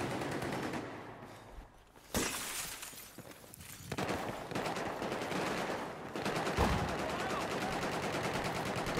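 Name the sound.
gunfire in the video game Battlefield 4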